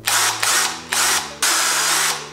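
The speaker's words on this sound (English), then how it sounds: "we then drilled the right hole and the new handguard was mounted snugly" A power drill whirs loudly up close in several bursts, its motor briefly dipping and restarting between runs, drilling a mounting hole for an LED signal handguard on a BMW R1200GS motorcycle.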